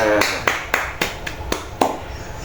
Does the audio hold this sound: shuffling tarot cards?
no